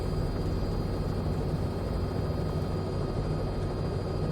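Cowansim R66 helicopter in a flight simulator, trying to hold a hover in some wind: a constant drone of turbine and rotor with a steady whine on top, even and unbroken from start to finish.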